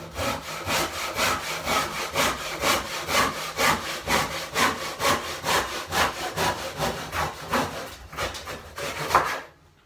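A hand saw cuts through timber in steady, rhythmic back-and-forth strokes, loud and close, with about a dozen even strokes before it stops near the end.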